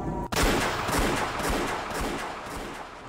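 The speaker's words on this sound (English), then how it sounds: "The crisp sound of gunfire pierced the air." Gunfire in the visual-novel game Rose Guns Days: a sharp crack at the start followed by a dense, sustained roar of noise without voices.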